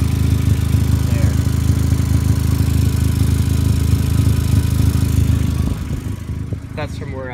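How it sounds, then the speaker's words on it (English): A 2004 Volkswagen Golf engine idles with a steady low rumble and a rapid ticking puff from an exhaust leak at a repaired spot, close up, dropping off near the end. "there is a little bit of an exhaust leak"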